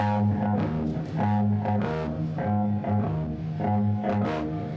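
A bass guitar plays a repeating riff of low, sustained notes, loud and clear with a slightly effected tone, no voices present.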